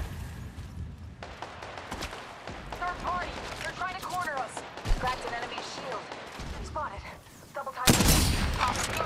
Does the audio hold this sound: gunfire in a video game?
yes